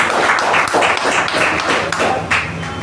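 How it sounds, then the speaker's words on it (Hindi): Audience applause fills the room for a guest being welcomed, a loud, steady wash of many hands clapping close by with almost no talk over it. "दिलीप सर के लिए जोरदार तालियां"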